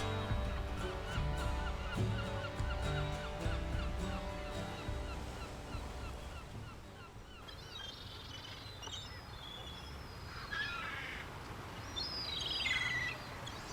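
Gulls call repeatedly in a noisy chorus at first along a sea-loch coast on the Isle of Rùm, then scattered squawking cries ring out over a soft background wash.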